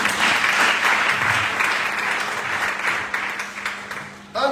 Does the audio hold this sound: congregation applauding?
yes